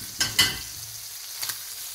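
Cooked ham browns in extra-virgin olive oil in a pan, a soft, steady frying hiss broken by a few brief stirring scrapes.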